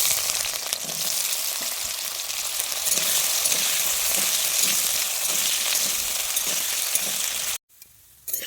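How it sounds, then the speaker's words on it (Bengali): Cut potatoes frying in hot oil in a pan, a loud steady sizzle with faint clinks of a utensil stirring, running for most of the clip before it cuts off abruptly near the end. "কেটে রাখা আলুটাকে আমি ভেজে নিচ্ছি"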